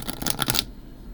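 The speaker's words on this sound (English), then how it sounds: "you may or may not have fun with the shuffling, or you could just do the overhand" A deck of long oracle cards, longer than standard tarot, is riffled in a quick papery flutter lasting about half a second, then stops, leaving quiet room tone.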